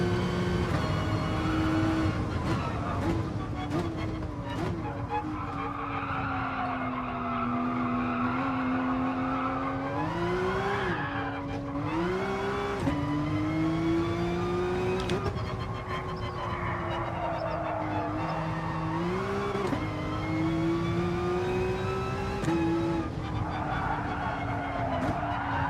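Race car in GT Sport at Laguna Seca skidding with sustained tire squeal, wavering continuous whine rising and falling over a steady loud engine drone throughout, with a voice talking faintly underneath.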